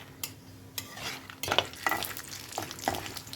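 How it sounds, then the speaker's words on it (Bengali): Peanuts fry in a pan for spicy semolina (jhal suji), giving a soft sizzle with scattered clinks and scrapes of stirring and scooping close by. There is no talking. "এই যে বাদাম ভাজা হয়ে গেছে বাদামটা তুলে নিচ্ছি"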